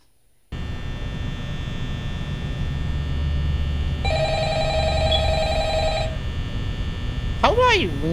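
A telephone in the video game Five Nights at Freddy's rings in a held electronic trill over a steady low hum, followed by a brief warbling tone near the end.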